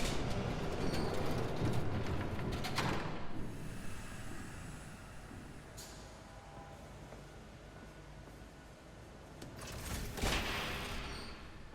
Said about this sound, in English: There's a train coming.